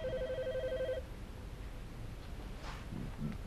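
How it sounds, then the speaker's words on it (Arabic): A telephone rings in a quiet home scene from an Egyptian comedy series: a steady electronic ring repeats for about a second and then stops, leaving soft room hiss. "ده تلاقيه هو اللي بيرن."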